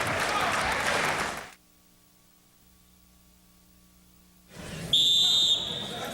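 A referee's whistle sounds at a Golden Gloves amateur boxing match in the open 156-pound division, a single shrill blast of about half a second cutting over returning crowd noise after a brief near-silent gap.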